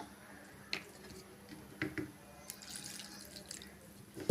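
Water splashes and trickles as tamarind is swished and rinsed in a bowl, with soft clinks and drips, fairly close, no talking.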